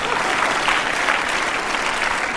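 A dense wash of crowd applause at a Patanjali Yogpeeth gathering in Haridwar, loud and even throughout with many hands clapping at once, close and uninterrupted.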